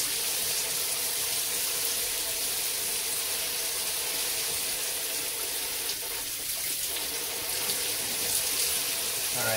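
Water running steadily from a tap while a wash rag is rinsed off during a shower, a constant hissing flow at moderate level with no voices.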